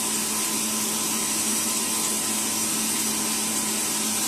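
An electric mixer whips egg whites for marshmallow flowers, a steady whirring motor drone that holds evenly from start to finish with no talk over it.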